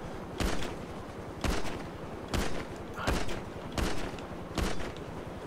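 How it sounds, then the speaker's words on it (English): Desert Eagle pistol fire in GTA V, six sharp, loud shots spaced about a second apart over a constant low game rumble, no voices. "this deagle has got a rubbish range"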